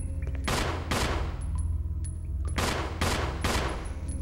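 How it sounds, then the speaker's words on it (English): Loud bursts of rapid automatic gunfire from a survival video game, five broad volleys roughly half a second each, spaced through the stretch with a steady background hum between them. "the amount of shots that I'm firing right now"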